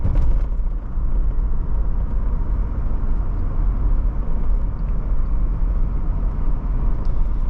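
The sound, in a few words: wind and road noise inside a 1987 Mercedes-Benz 300TD cabin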